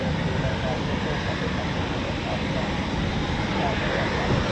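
Steady broadband roar of a military jet engine idling at RAF Coningsby while awaiting takeoff clearance, loud and continuous, with a voice talking over it.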